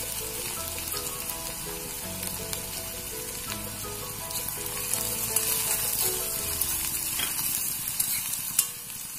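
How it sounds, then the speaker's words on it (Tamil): Onions and dried red chillies sauté in a pan for a wheat flour dosai, giving a steady close sizzle with scraping stirs throughout, with no voices. "ஒரு 2 நிமிஷம் அந்த வெங்காயம் வதங்கினா போதும்"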